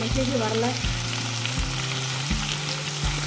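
Potatoes sizzle steadily in a hot pan, with a few soft stirring scrapes and clatters recurring at intervals.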